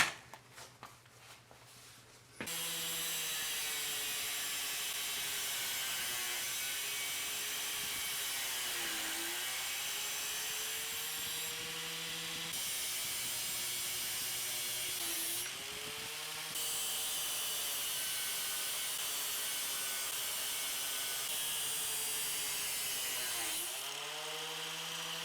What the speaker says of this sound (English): So to cut it, I'll just use my angle grinder.